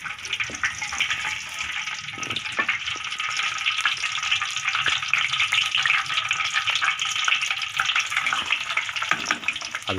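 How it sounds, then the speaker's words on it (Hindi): Whole cumin seeds frying in ghee give a continuous bright sizzle with occasional small pops and crackles, close and steady throughout, with no talking. "सबसे पहले घी में साबुत ज़ीरा डाल देना है और इसको थोड़ी देर फ्राई करना है"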